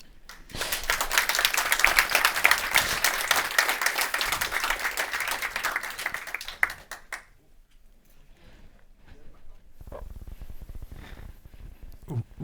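Audience applause after a conference talk on scaling and monitoring machine learning models, a loud sustained burst of clapping from a room full of people that stops abruptly near the middle, followed by quieter room noise and faint scattered sounds.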